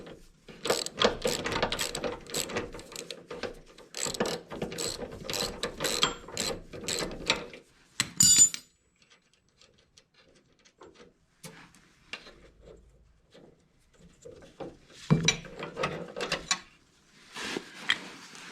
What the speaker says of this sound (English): it's a 9/16 wrench and socket to remove this